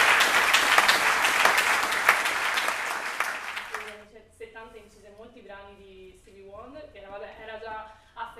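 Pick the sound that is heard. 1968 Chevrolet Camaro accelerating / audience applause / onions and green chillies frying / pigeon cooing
audience applause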